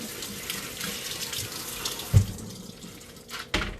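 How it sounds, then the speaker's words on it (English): Cold tap water runs steadily over potatoes at a sink, a continuous close rushing splash with a couple of brief clunks as they are handled. "maybe I'll run them under cold water"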